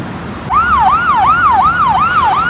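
An ambulance siren wails on a main road, cutting in sharply and sweeping up and down in a steady, fast rhythm, loud and close behind over low traffic rumble.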